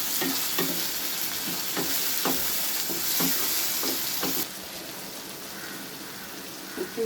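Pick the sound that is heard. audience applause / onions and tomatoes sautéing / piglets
onions and tomatoes sautéing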